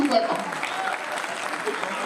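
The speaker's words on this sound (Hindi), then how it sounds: "जरा जोरदार तालियां बजा दीजिए" Applause from an audience at a Hindi poetry recital, a steady patter of many hands clapping across the whole stretch, fairly even in loudness with a voice briefly audible at the start.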